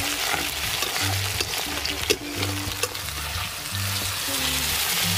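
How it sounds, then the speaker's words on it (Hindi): Onion frying in hot oil sizzles steadily, broken by scraping and clinking stir strokes, close and clear, with faint low tones in the background. "ବର୍ତ୍ତମାନ ପିଆଜ ଟିକେ ଭଲ ଭାବରେ ଭଜାଯିବ"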